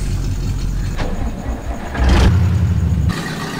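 Engine of a small truck in Farm Simulator 2015 on an antique silage farm, a steady low rumbling idle that swells louder for about a second before settling back, with no talk.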